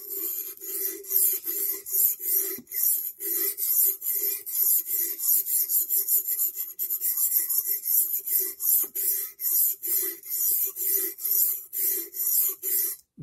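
A recurve knife blade is sharpened on a TSPROF guided sharpener, with steady, even back-and-forth abrasive strokes rasping close by in a regular rhythm, light and unhurried.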